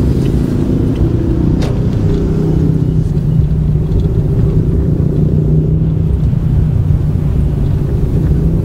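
A car driving through heavy city traffic in Cebu's business area, with a loud, continuous low road rumble and engine drone from inside the vehicle, steady throughout with no voices.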